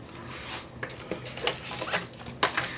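Scissors snipping through the pink pages of a Disney Be Happy Box booklet, close and crisp, a handful of irregular cuts and paper rustles.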